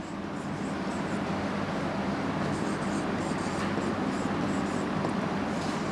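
A teacher writes on a classroom board during a physics lesson on circular motion, producing a steady, continuous scratchy hiss that runs unbroken for the whole stretch at even loudness.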